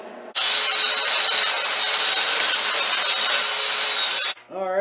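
A meteorite billet canister is sawn straight down the center, a steady, loud, continuous grinding rasp with a bright whine that holds for about four seconds and then cuts off.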